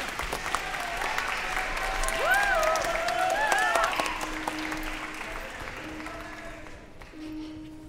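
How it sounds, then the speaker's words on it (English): An audience claps for a young ensemble at a Polar Express holiday concert, a steady wash of applause that swells and then tapers off over several seconds, with a few faint voices and tonal sounds mixed in. "Yes, we should clap for them."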